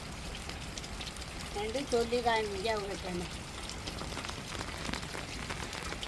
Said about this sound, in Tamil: இப்போ கொஞ்சம் லேசாக மழை வந்துக்கிட்டு இருக்குது